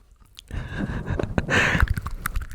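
Close, quiet crunching as a pet rat chews dry crunchy food, with rapid little bites and crackles.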